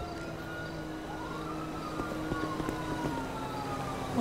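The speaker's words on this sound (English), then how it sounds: "I hear sirens kicking off." Police sirens in the GTA V video game, a faint wailing siren rising and falling in the distance over a steady background hum, with a few light knocks partway through.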